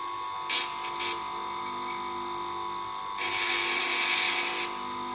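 Grinding wheel shaping a lathe cutting tool: two short bursts of high grinding near the start, then a longer sustained grind of about a second and a half over a faint steady motor hum.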